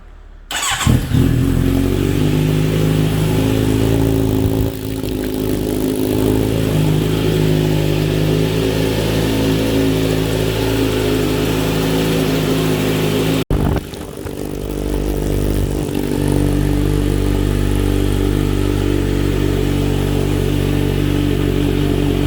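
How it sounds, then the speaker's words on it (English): A 2021 Kawasaki Z900RS fitted with an Akrapovic header starts up and idles loudly and close, with a steady, rumbling exhaust throughout, one brief cutout midway, and no talking. "let's go ahead and start her up and see how she sounds"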